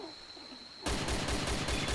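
Close, loud bursts of rapid gunfire in the video game DayZ Mod (Arma 2), erupting suddenly after a quiet ambient stretch and repeating in a fast, steady rhythm.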